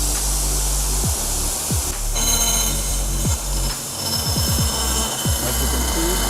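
A Timesavers 10 manual grinder with a hammerhead deburring a metal workpiece, giving a steady loud grinding roar with broadband hiss, repeated low thuds and scrapes running throughout, no talk.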